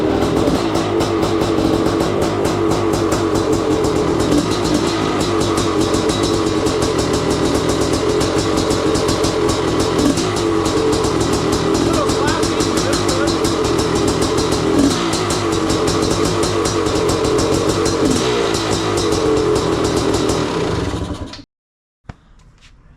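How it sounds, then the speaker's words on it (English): A crusty 1993 Honda CR500 two-stroke dirt bike, unrun for ten years, roars loudly and continuously for about twenty seconds with raspy revving close by, then cuts off abruptly. "You guys didn't think I was gonna start that bike, did you?"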